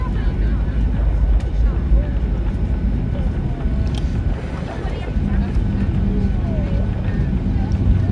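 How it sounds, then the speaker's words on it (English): Ryanair Boeing 737-8AS with winglets rolling out after landing at Gothenburg, steel brakes applied with no hard braking, a loud continuous cabin roar with faint squeals and whines over the rumble as the jet slows. "You can hear the steel brakes, which I love to hear."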